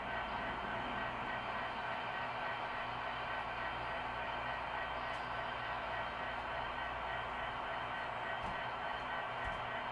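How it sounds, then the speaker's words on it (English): A model train runs along the main line of a layout, giving a steady, even rumble with a faint hum that stays constant throughout. "our next shot here is of the train at the north end of the freight yard as it's making its way around the layout on the main line"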